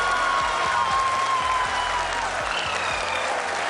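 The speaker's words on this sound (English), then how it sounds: "People are applauding." Spectators celebrating the Chandrayaan-3 lunar landing clap in sustained, dense applause from a large gathering, steady and loud from start to finish.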